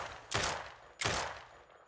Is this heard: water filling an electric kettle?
no